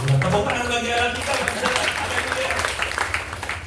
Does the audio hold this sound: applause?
yes